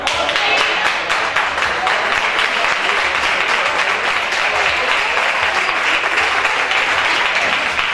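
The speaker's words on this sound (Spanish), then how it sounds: "quiero que me le digáis la verdad y si os gusta, darle un aplauso." Audience at a beekeeping convention applauds steadily and loudly, a dense wash of many hands clapping at close range for the full duration, with no talk over it.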